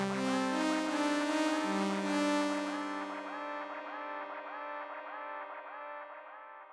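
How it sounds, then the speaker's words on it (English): A synth tone on the Arturia Synthi V passes through a ping pong echo, its repeats bouncing in a steady rhythm and fading away after the note stops. No voices are heard. "we have echo, for example, and we can turn on the ping pong"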